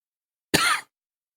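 A single sharp cough, close and loud, then silence.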